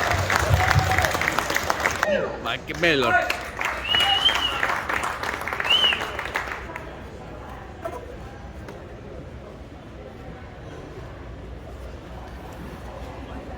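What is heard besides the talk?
audience applauding at indoor car show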